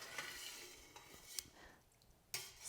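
A utensil stirs cheese curds and whey in a pot while making feta, soft scraping and light clinks against the pot, quiet and close with no voices.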